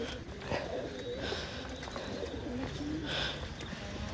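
Local Khulna pigeons coo in low, soft, repeated calls close by, over a steady background murmur.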